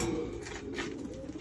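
Rare-breed pigeons coo softly at close range, a low throaty murmur over a steady background hum, with no voices.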